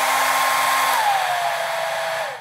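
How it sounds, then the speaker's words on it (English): A hair dryer with a Digiducer vibration sensor attached runs on its high setting as a steady, loud, close whooshing roar with a constant motor whine that sags slightly in pitch, then cuts off abruptly at the end. "So turn on the hairdryer, turn it on high"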